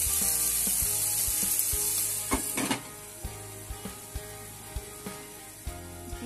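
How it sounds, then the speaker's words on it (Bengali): Capsicum frying in a pan gives a soft continuous sizzle, joined by a few sharp scraping stir strokes and a run of light, regular ticking clicks. "এটা 1 মিনিটের জন্য আমি একটু ভেজে দিচ্ছি"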